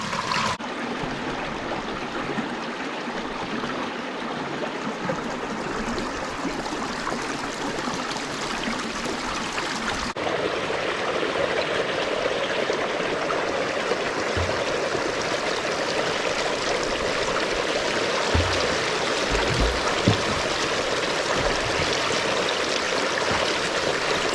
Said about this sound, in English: So water flows through them.